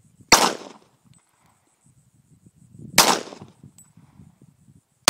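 A Springfield XDM .40 caliber pistol fires two loud, sharp shots about three seconds apart toward a 25-yard target, with a third shot starting just at the end and quiet outdoor ambience between.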